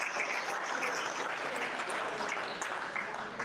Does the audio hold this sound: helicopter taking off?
no